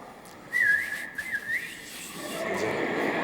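A person whistles the opening theme of a Mozart overture, a quick, bright run of notes that rises and falls, then fades into a soft background hiss.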